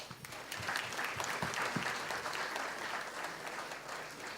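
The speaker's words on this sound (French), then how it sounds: "je voudrais vraiment qu'on applaudisse fortement à ce cabinet qui travaille d'une manière professionnelle" Audience at a ceremony in Senegal applauding a firm, with scattered claps at the start building into steady, moderately loud applause that holds to the end.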